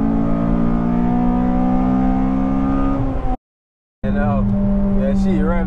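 A Honda Civic Type R FD2 engine holds a loud, steady high-revving drone, cuts out briefly, then returns climbing through rising revs, with people talking alongside.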